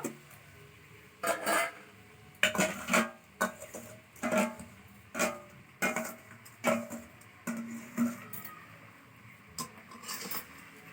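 A spoon stirs sugar and ash gourd in a wok over low heat for murabba, giving a run of irregular clanks and scrapes against the metal pan, moderately close with quiet gaps between strokes.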